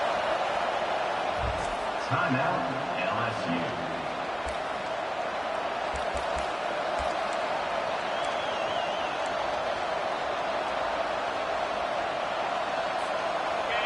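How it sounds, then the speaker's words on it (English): A stadium crowd roars on third down in a college football video game between LSU and Florida State, a steady, loud wash of noise that runs the whole time beneath a commentator's talk. "Decibels rising as the crowd gets behind this defense on third down."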